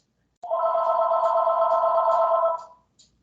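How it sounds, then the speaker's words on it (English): A telephone rings once during a Skype call at home, a steady electronic trill of about two seconds with a short faint chirp after it. It is fairly clear and no one talks over it. "Oh, there's a phone call there."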